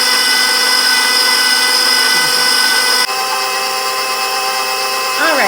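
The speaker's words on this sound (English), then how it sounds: "once you've got all those eggs in there, you're just going to crank it up a notch and let it whisk itself together." An electric stand mixer whisks eggs into batter for a lemon blueberry bundt cake, a loud steady whirring motor with a brief shift in pitch partway through as the speed changes.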